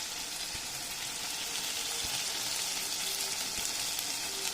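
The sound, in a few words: mutton curry masala frying in oil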